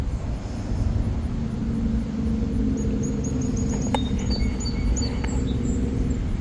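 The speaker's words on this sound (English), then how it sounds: "Hear the birds?" A few faint, high bird chirps come through a steady, loud rumble of wind or distant traffic.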